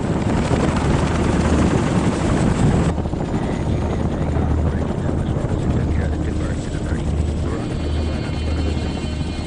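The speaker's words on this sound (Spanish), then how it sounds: "A las 10:35 de la mañana, los primeros helicópteros americanos despegaron y comenzaron el vuelo de 13 minutos hasta la zona de aterrizaje." American military helicopters fly in Vietnam War footage, a dense, loud rotor and engine roar that carries steadily throughout with a low thumping pulse, under a narrating voice.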